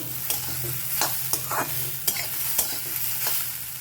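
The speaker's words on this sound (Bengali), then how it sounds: "এর উপরে দিয়ে দিচ্ছি ভেজে রাখা মাছ মাছটা দিয়ে আরও পাঁচ মিনিট ভেজে নেব" Small fish and taro stems frying together in a pan for a Bengali chorchori, with a steady sizzle punctuated by repeated scraping clicks of a stirring spatula, close and clear, no talking.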